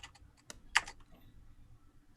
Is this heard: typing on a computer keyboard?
yes